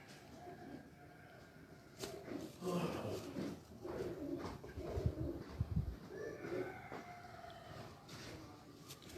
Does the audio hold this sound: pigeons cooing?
yes